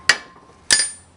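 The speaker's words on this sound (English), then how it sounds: "all I did was hammer it through" A hammer drives a serrated steel bushing sleeve through a Monza rear strut support plate, with two sharp, close metallic strikes about half a second apart, each ringing briefly.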